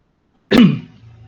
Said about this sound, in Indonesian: Bentar aku batuk.